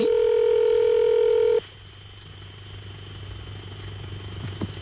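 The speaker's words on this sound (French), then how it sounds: "Ça sonne." A telephone line during a radio prank call gives a loud steady tone for about a second and a half, then cuts to a low hum with faint line noise.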